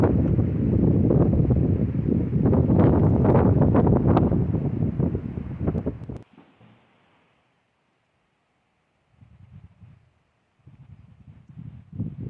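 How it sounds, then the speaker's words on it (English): Strong wind blowing across a hiking trail on a clear morning, roaring steadily and loudly for about six seconds, then dropping away to near silence with a couple of softer later gusts. "it's windy, but there's clear skies"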